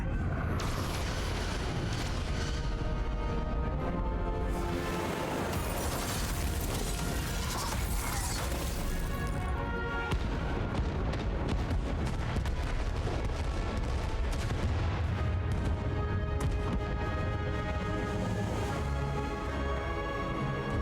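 Starship weapons fire and a ship exploding in Star Trek: Resurgence form a continuous loud mix of blasts, rumbling and mechanical rattling that swells and churns for the whole stretch.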